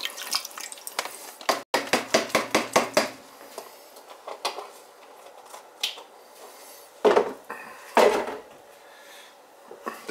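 A lid set onto a cooking pot holding a corned beef brisket with its seasoning packet, giving a few sharp metallic clatters close by after a run of busy kitchen clinks and rattles, with quiet gaps between.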